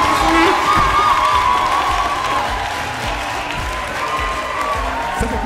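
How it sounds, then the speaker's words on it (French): A crowd claps steadily with some cheering mixed in, fairly loud and continuous throughout, with faint voices underneath. "Vos applaudissements, s'il vous plaît."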